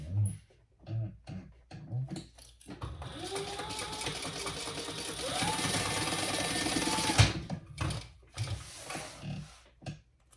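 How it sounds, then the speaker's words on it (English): A sewing machine top stitches a Pebble Mini Sling, its needle running in a fast steady whir for several seconds, preceded and followed by short bursts and clicks, close and loud. "sew that together and top stitch"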